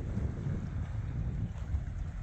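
Wind buffeting the microphone at a lakeside camp with a tent and small boat, a constant low roaring rumble that stays loud and steady throughout, with no voices.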